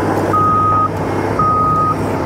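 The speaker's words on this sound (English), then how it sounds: "for all you guys that love to see the compactor run, we'll film him a little bit" A landfill compactor rumbles steadily with a low engine drone while its reversing alarm sounds two long, loud electronic beeps, evenly spaced over the running machine.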